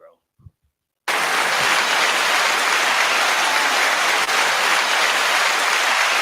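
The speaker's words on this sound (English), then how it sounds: "I'm gonna let y'all hear the applause, baby." After a brief spoken word and a second of silence, an applause sound effect on a talk show cuts in abruptly and holds as a loud, dense, unbroken wash of clapping to the end.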